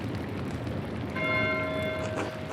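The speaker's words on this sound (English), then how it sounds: "Why is Matthew ringing the bell?" A church bell rings in the video game Pentiment, its clear, ringing tone swelling to full loudness about halfway through and sustaining over a dense, noisy background.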